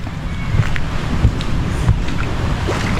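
A fishing boat out on the sea, heard as a steady engine drone under heavy wind buffeting the microphone. Water splashes and a few soft thumps come through at close range.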